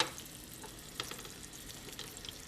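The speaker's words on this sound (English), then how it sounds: "We're going to just throw our fish in there, let it start to sear." Sea bass sears in a hot olive oil pan with a steady, soft sizzle and faint crackles, close by, with no talking.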